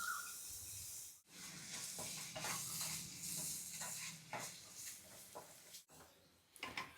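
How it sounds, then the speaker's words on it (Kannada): Chopped onion sizzles in hot oil in a frying pan, a steady close hiss with occasional stirring scrapes against the pan, running on without talk. "ಬಾಣಲಿಗೆ ಹಾಕ್ಕೊಂಡು ಫ್ರೈ ಮಾಡ್ಕೊತೀನಿ"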